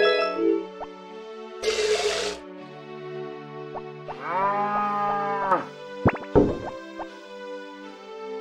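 Cartoonish cows in the farming game Harvest Moon moo in short synthesized calls between bright game jingles, chimes and a watery plop, all loud and close, with no one speaking.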